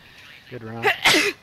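A girl sneezes while playing an online video game: a sharp, breathy double burst close to the microphone, following a brief spoken phrase.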